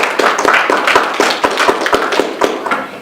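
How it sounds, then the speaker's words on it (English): Audience at a panel discussion at Howard University claps together, a dense, steady round of applause with sharp individual hand claps standing out, close and lively throughout. "So just a slight round of applause for you all for showing up."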